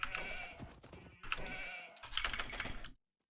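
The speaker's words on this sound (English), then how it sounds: "Looks like we found all our sheep." Sheep bleating in the video game Age of Empires II, a few faint, overlapping bleats that run for about three seconds amid light game noise, then cut to silence.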